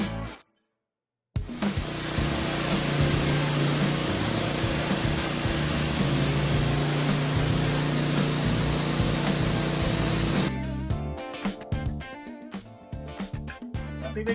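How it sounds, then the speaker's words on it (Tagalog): An angle grinder and a welding machine run together, giving a loud, steady, hissing grind that starts after a brief silence and breaks into irregular scraping clatter near the end. "Sabay natin yung ating grinder."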